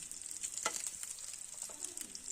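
Eggs fry in hot oil in a pan for egg curry, a steady close sizzle with small crackling pops, fairly soft and with no talk.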